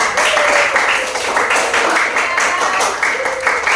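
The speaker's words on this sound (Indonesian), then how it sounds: "Kita tepuk tangan untuk kita semua." A classroom of students applauds together, a loud, dense burst of clapping that holds steady for a few seconds with faint voices mixed in.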